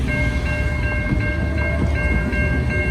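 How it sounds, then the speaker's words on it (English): A long freight train runs along a street, rumbling steadily past close by, with rhythmic clacking from the wheels and a high metallic ring above the roar. "There's the train."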